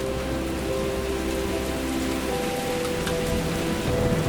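Heavy rain pours across the Sahara desert during a brief, intense storm, a dense continuous hiss of drops striking the ground at steady loudness with no pauses.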